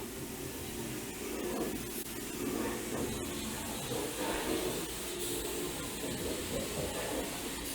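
A spray gun lays clear coat on a BMW F30 hood inside an inflatable paint booth, producing a soft, steady hiss that swells and eases in pulses as the passes continue, faint and alone.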